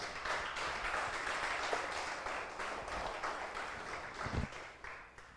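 Applause from a church congregation during a Portuguese-language service, a moderate, continuous wash of clapping that rises and falls over several seconds without any speech.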